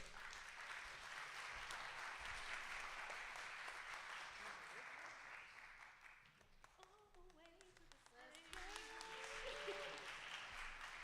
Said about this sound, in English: Applaud the poet, not the scores.